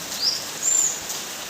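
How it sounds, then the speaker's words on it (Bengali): Steady soft hiss of rain falling, a constant even wash with no voices, fairly close and moderately loud throughout. "আজকে ভোরবেলার থেকে যে বৃষ্টি নামছে বৃষ্টি আর কমার নামে নেই"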